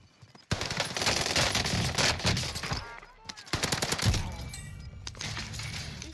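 Rapid pistol and automatic gunfire in the battle royale game Call of Duty Warzone, with dense bursts of shots running through most of the clip after a brief quiet start.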